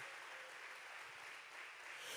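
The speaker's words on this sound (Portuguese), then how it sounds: "você pode aplaudir Jesus" A church congregation claps for Jesus during an evening service, with steady dense applause that fills the brief moment evenly and holds at a moderate, slightly distant level.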